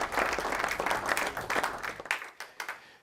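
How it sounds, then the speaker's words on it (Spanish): Church congregation applauding during a Spanish-language morning service, dense steady clapping for about two seconds that thins into scattered, fading claps. "Dale gracias al Señor, dale, si le vas a aplaudir, dáselo fuerte en esta mañana."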